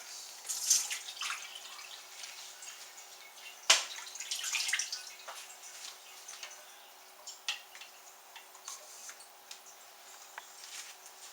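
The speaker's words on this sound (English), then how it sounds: "And this is how we start our siphon." Cranberry spice cider trickles through a siphon racking cane, a soft irregular dribbling and splashing with small drips, close and faint, with no voices.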